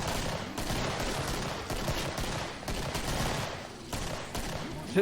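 Rapid gunfire crackles in dense, overlapping bursts while players shoot zombies in the game Killing Floor, continuous and fairly loud across the whole stretch.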